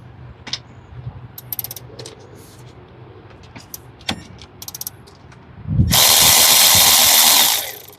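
A power tool spins off the 14 mm brake caliper bolts on a Hyundai Sonata, one loud whirring burst of about two seconds after scattered clicks and handling clanks from the tools.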